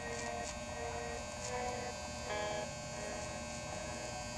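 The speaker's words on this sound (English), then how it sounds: "We're gonna use the trimmer to do the outline." An electric hair trimmer outlines the sideburn area during a haircut. It gives a steady, close, even buzzing hum that barely changes, with no speech.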